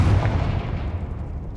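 A Confringo spell explosion from the video game Hogwarts Legacy, a loud, dense, close blast with a heavy low rumble that fills the whole short moment and fades slightly.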